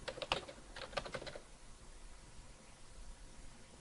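Quick clatter of computer keyboard typing during a software toolbar setup, a short burst of crisp, close keystrokes in the first second and a half, then quiet room hiss.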